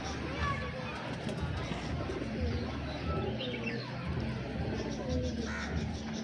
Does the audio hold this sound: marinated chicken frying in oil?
no